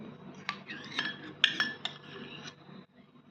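A spoon clinks and scrapes in a bowl while cucumber and onion raita is stirred with yogurt, with several bright metallic clinks, close and fairly quiet, in an irregular rhythm over soft mixing sounds, no talking.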